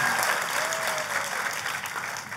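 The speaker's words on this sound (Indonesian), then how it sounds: "Tepuk tangannya boleh yang meriah buat Tuhan kita yang luar biasa." A church congregation claps together at a service, a dense, steady burst of applause from a large room that tapers slightly toward the end.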